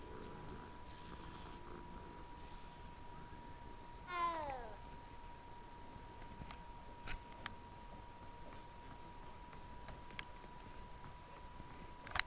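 A cat meows once, brief and fairly close, over a steady background hum and faint ticking in the Hogwarts Legacy video game.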